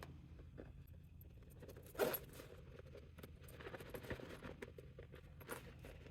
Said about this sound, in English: just pull your zipper like so